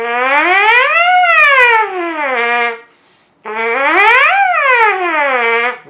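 A trumpet mouthpiece is buzzed alone in two long phrases, each gliding smoothly up and back down through connected intervals without breaks, separated by a short pause; the tone is loud, close and reedy.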